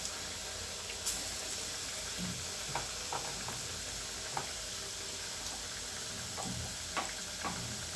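Vada dough frying in oil for vadacurry, a steady crackling sizzle with scattered pops and small ticks. No one talks over it.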